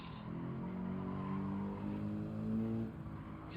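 Race car in Gran Turismo 7 spinning out after hitting a curb, a sustained engine drone with shifting pitch and a tire-scrub tone for a few seconds, then cutting off abruptly.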